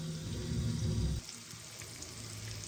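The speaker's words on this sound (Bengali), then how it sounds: "ভালো করে লাল করে ভেজে নেব পেঁয়াজগুলো।" Onions fry in oil in a covered pan, a soft, steady sizzle that runs throughout at low volume, with a brief low rumble at the start before it settles.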